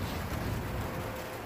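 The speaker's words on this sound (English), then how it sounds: "it is raining" Steady rain falls outdoors near a bus stop in Colorado, a continuous dense hiss without breaks, fairly faint and with no talk over it.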